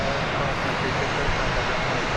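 An American Airlines jet at Dallas Fort Worth airport gives a continuous broad engine roar throughout a couple of seconds, with a person talking underneath.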